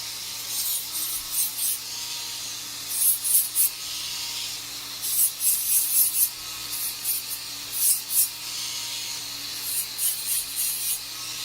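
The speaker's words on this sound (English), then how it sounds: "this is very light pressure. You're just gently buffing it out." A plastic Essix retainer's edges are gently buffed smooth with light pressure, giving a continuous close hissing rub with rhythmic surges of harsher grinding.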